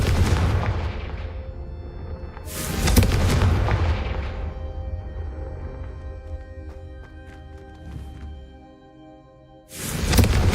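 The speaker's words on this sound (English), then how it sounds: "a Confringo blast travels a bit farther than that of a spell like Incendium" A Confringo fire spell cast in a video game bursts out as loud booming blasts, one near the start of the clip and another near the end, with lower rumbling effects in between.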